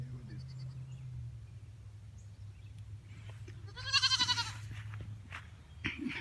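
Goats on a farm bleat in a short burst of loud, wavering cries midway, over a low rumble of wind or engine noise in the background.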